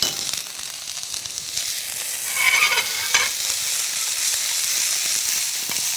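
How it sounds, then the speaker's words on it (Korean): Bellflower root stir-fries in hot cooking oil over medium heat, a close, bright, continuous sizzle with crackling spits and brief stirring swells, and no talk. "오늘은 이제 그대로 이제 도라지만 넣어서 볶는 걸로 할게요"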